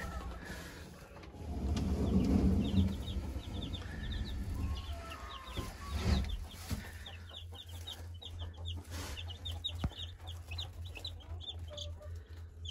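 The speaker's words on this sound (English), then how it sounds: "I picked up a few more chicks, added 8 more chicks to my flock." Backyard chicken flock with newly added chicks, including New Jersey Giants, Leghorns and Buff Orpingtons, giving repeated clucks and high peeping chirps at close range, with no talking.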